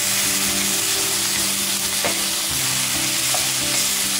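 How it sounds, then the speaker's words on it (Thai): Ginger chicken with mushrooms stir-fried in a very hot pan, giving a steady loud sizzle with scraping and stirring clatter throughout, and no talking. "แล้วก็ผัดไป"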